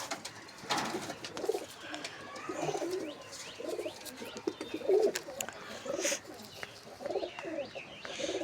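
Pigeons in a loft give repeated soft, throaty coos at close range, rising and falling throughout over a faint background murmur.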